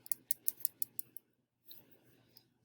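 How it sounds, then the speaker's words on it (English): Pen or marker writing notes during a math lesson on solving radical equations, a quick series of sharp scratchy strokes, then a pause and a few softer scribbles, close and alone. "let's write that down."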